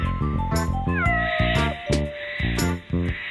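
A cartoon cat being weighed lets out drawn-out, whiny meows over a bouncy musical backing, loud and close, with sharp accents punctuating the tune.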